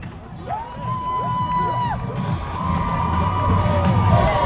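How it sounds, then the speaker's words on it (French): Festival crowd cheering and applauding after a tennis performance at the Fêtes Beynoises 2014, a dense wash of claps and shouts that grows steadily louder, with a few whoops and voices rising above it. "Bravo le tennis et on les applaudit!"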